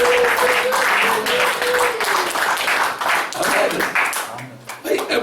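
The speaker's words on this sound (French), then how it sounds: "Acclamation pour Jésus." Congregation applauding during a church sermon, vigorous clapping mixed with cheering and shouting voices, loud and continuous throughout.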